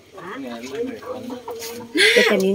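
A hen in a nesting box, ready to lay eggs, gives a drawn-out, wavering clucking croon close by, ending in a louder, higher squawk.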